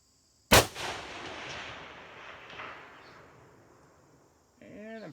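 A single sharp rifle shot from a 7.62x39 rifle fired at a target outdoors, loud and close, followed by a long rolling echo that fades over several seconds, with a brief voice at the end.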